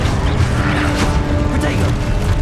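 Spell effects in Hogwarts Legacy roar continuously and loudly, with dense booming blasts and crashing impacts overlapping nonstop, while a voice shouts over them.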